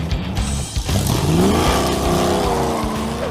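A 1968 Dodge Charger with a 440 V8 revs hard and loud, the engine note climbing and sweeping up through the rpm range before holding at a strong roar, with a brief tire-like squeal near the start.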